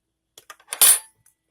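Metal fork from a Bud K M48 bugout mystery bag being handled, a few light clicks followed by one bright clattering clink, close and alone.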